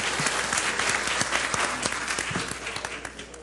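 A lecture audience at a mathematics teachers' session claps in a lively burst, close and full at first, then thinning toward the end.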